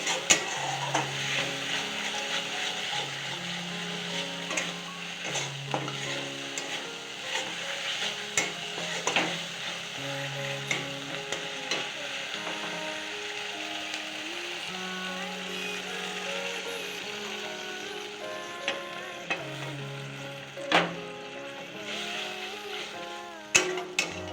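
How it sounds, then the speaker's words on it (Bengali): An onion mixture in a pan is stirred steadily while milk goes in a little at a time, giving a continuous scraping and gentle sizzling with scattered spoon knocks, close and moderately loud throughout. "তো অল্প অল্প দুধ দিয়ে নাড়াবো আগে।"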